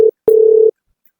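Telephone tones sound while a call is being dialed: a short steady beep and then a longer one, clean and loud, with silence between and after.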